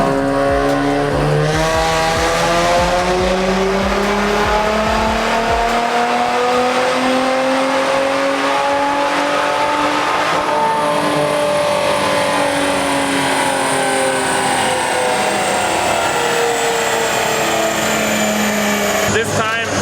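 A turbocharged VR30 engine in an Infiniti Q60S revs hard on a dyno, a loud, close, sustained climbing whine that rises through the gears and holds near the top, with voices faintly underneath.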